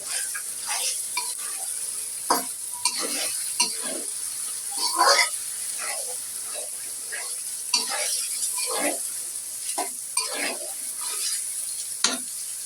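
Goat meat sizzles in a pan as its own juices cook down, with a steady bright hiss broken by repeated scraping stir strokes at close range, no voices.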